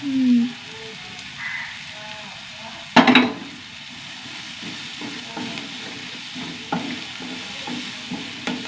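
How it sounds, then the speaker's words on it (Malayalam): Soft sizzling of onions with ginger and garlic in a pan under quiet kitchen noise, broken by a sharp scrape and clatter of a spoon stirring; a brief voice-like tone early on. "ഉള്ളി നന്നായി വഴണ്ട് വരട്ടെ"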